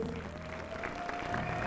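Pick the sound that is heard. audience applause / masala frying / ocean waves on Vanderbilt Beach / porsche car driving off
audience applause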